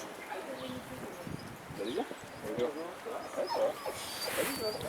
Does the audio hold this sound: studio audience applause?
no